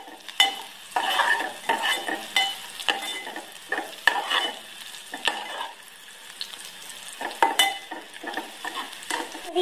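Onions sizzle and fry with garlic-ginger paste in a pan for vegetable pulao while a utensil stirs and scrapes in irregular strokes, close and moderately loud, with no talking.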